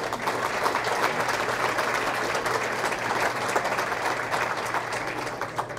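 At a Veterans Day luncheon hall, a crowd keeps up steady, even applause, a continuous wash of many hands clapping at moderate volume with no pauses.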